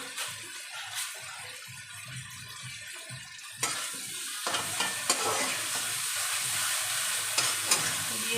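Spice paste for a fish curry, with oil and a pinch of sugar, is sautéed in a pan, giving a soft sizzling hiss broken by spatula scrapes and stirring knocks that grow busier partway through.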